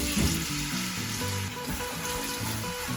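Chopped onions sizzle in hot oil over a medium flame as the base for nihari, a steady close crackle with soft stirring scrapes throughout.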